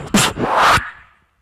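A man imitates a snare drum with his voice, producing a sharp, breathy burst followed by a hissing, swishing tail that fades out, close and loud.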